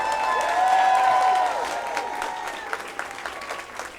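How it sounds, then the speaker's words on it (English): Applause from the crowd at a Hollywood Walk of Fame star ceremony for RuPaul, outdoors; a loud, steady wash of clapping that fades into scattered claps and some cheering toward the end. "Give him a big round of applause."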